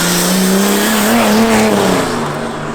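Diesel car driving past with a strong, rising-then-falling engine note and steady road noise, loud and close, with no voices.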